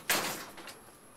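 Otis traction elevator doors at Macy's Herald Square in New York slide with a sudden, loud, airy rush that fades, followed by a softer second swish a half second later.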